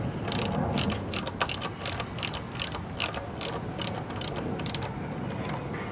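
Ratchet clicking rapidly while tightening the brake caliper bolts on a Honda CBR1000RR motorcycle, a close series of sharp ratcheting bursts over a steady background hum.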